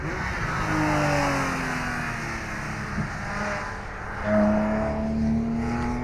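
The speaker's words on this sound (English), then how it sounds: "This one, the venerable Porsche 911 GT3 RS" A Porsche 911 GT3 RS engine revs hard at Rockingham's race circuit, its rising and falling whine climbing through gears in repeated sweeps, loud and fairly near, with no talk over it.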